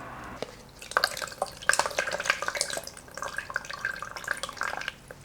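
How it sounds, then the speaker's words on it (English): Water pours and drips onto a houseplant's soil for a good soak: a steady splashing trickle with scattered droplet patters, close and moderately loud, running for several seconds before easing off. "So, last step, what's left? Watering."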